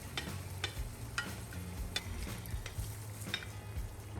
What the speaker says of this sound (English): Let the ingredients cook slowly over low heat, stirring occasionally so they brown evenly